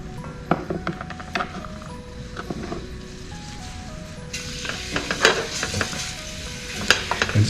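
Shallots sweat in olive oil in a pan for mushroom risotto, giving a steady soft sizzle with scattered stirring scrapes and clicks that build louder and busier in the second half, close up, with no talking.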